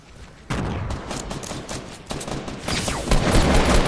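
Video game gunfire goes off in dense, rapid bursts of shots that stay close and loud. The firing builds in intensity as it goes on, with barely any pause between rounds.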